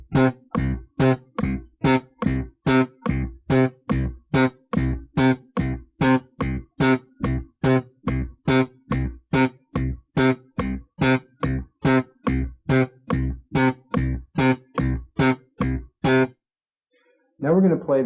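Slap bass played in short, deadened staccato notes along with a metronome, a long run of roughly thirty tightly clipped plucks in a steady, even rhythm, close and loud, ending with a pause and a brief voice.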